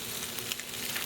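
Shrimp and scallop burgers sizzle on an Island Grillstone, a steady hissing crackle with a constant texture and no pauses throughout the brief moment.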